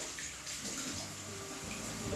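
Water poured into the middle of amaqebelengwane (mazemberapoto) cooking in a reheated hot pot on a gas stove, giving a steady, close rushing splash that runs unbroken for the whole stretch.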